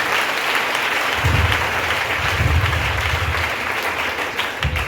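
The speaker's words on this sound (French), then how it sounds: "On peut acclamer le Seigneur." A church congregation applauds to acclaim the Lord during a French-language sermon, with loud, dense clapping that holds steady throughout, close and without speech.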